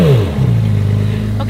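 Ferrari 296 GTB V6 engine revs up briefly, a falling then steady low engine tone at close range, loud and alone.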